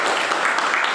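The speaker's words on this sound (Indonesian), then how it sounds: "Terima kasih kepada kelompok 1, berikan tepuk tangan." A classroom group gives applause after a student presentation. Dense, steady clapping fills the whole short moment.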